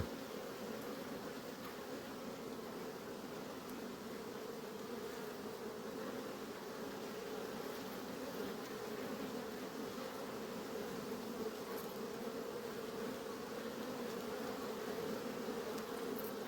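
Honey bees fly around hives at an apiary at night with a constant, dense buzzing drone, steady and moderately faint, with no voices.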